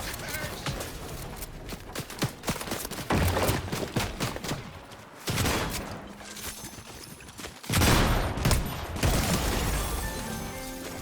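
Gunfire in Fortnite, repeated bursts of rapid shots coming in clustered waves with brief pauses between, loud and close over background game noise.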